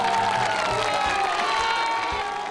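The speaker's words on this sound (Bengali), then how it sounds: "একটা জোরে করতালি আরো একবার।" An audience at the grand final of a Baul folk music competition show breaks into loud, continuous applause mixed with cheering and a few shouts, filling the whole stretch with dense crowd noise.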